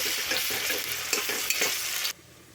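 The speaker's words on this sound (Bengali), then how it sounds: "আমি এখন চিকেনটা কষে নেব" Chicken being sautéed in a pan with onions for biryani, a close crackling sizzle broken by several stirring scrapes, then cutting off abruptly near the end; no talking.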